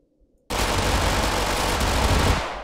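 Fast-barrel gun emptying its magazine in Totally Accurate Battlegrounds, a sudden dense burst of rapid gunfire starting after brief quiet and continuing as a loud, unbroken roar.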